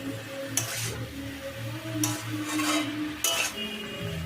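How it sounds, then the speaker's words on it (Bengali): Pumpkin and Malabar spinach greens with shrimp are sautéed in a pan, a low frying sizzle under three sharp bursts of scraping as the spoon stirs and clinks against the metal. "এবার সব কিছু খুব ভালো করে কষিয়ে নিতে হবে"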